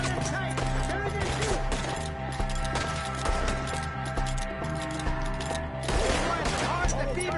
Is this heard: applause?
no